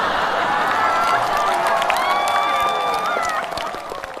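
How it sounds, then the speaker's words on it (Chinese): A studio audience at a Chinese comedy show breaks into loud applause and cheering, a dense wash of clapping that holds steady before tapering off near the end. "听懂掌声。"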